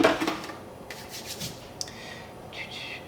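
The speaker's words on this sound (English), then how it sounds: "The fun part of scraping the bottom of a coconut oil thing." Scraping the bottom of a coconut oil jar, a few short close rubbing and scratching strokes, quiet and intermittent.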